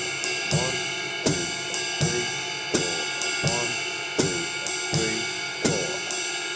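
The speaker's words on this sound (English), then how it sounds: "Let's do a couple of bars of the bass drum playing on the beat" Jazz drum kit with the bass drum thumping steadily on every beat under a ride cymbal pattern, played alone for several bars at an even tempo, close and clear.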